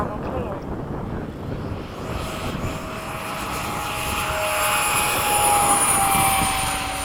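An FMS 70mm F/A-18 radio-controlled jet with a ducted fan flies past at a model airfield, its high, rushing whine swelling louder over several seconds against wind noise on the microphone.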